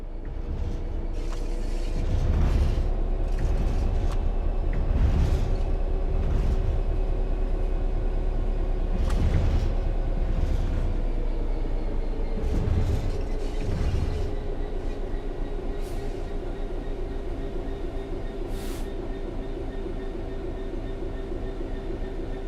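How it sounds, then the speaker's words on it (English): A video-game train coasts on level track with a low continuous rumble and tonal hum, periodic clunks of wheels over rail joints, no voices. "The train will then coast on level ground, and the train will only slow down very gradually."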